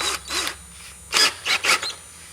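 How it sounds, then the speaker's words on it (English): Small drill bit boring a pilot hole into a rusty rocker panel on a Chevrolet Silverado crew cab dually, several short whirring bursts with pauses between them, close and moderately loud. "drill me a hole there so this thing won't wander."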